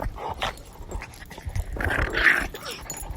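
A ten-week-old puppy makes soft, brief whimpers and small growly vocal sounds, close by, in a few short bursts with a louder whiny cry near the end.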